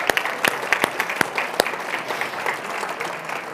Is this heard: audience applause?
yes